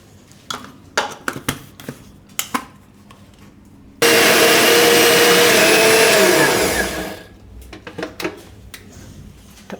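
A kitchen blender grinds two green chillies with a little water, starting abruptly with a loud, steady whine that runs for about three seconds and then winds down, framed by light clinks and knocks of handling before and after.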